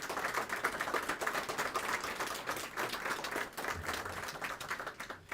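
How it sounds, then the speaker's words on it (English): Applause from a crowd at an outdoor ribbon-cutting ceremony on Main Street, honoring staff; steady, dense clapping holds for several seconds at moderate level with no talk over it. "I think they should be given a round of applause right now for the work."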